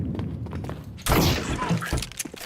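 An incendiary grenade thrown in a tactical shooter game lands with a sudden loud burst and a sustained crackling roar that fills the remaining seconds, with faint game noise and muffled thuds around it.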